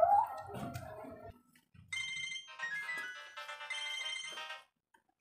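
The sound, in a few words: mobile phone ringtone, incoming call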